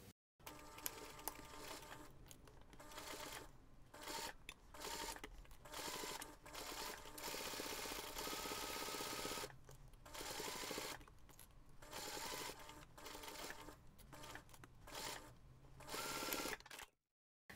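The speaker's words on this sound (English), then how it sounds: "we're going to baste the zipper from the inner corner around, and you're going to stop at the inner corner using 5 millimeter seam allowance" A sewing machine bastes a zipper onto fabric pouch panels, running in steady fast bursts of stitching separated by short pauses, close and fairly quiet with no talking.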